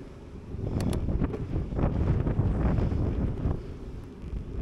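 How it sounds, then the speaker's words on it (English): Strong coastal wind buffeting the microphone while cycling along the seafront at Littlehampton in wind and rain: loud, continuous roaring gusts with low rumble that swells and eases, no talk. "It's going to get stronger now. The wind did earlier when I did this."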